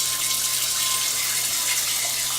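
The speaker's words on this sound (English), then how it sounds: "I actually want to fill my pot" Steady rushing tap water pouring into a pot, a continuous even gush with no pauses, close by.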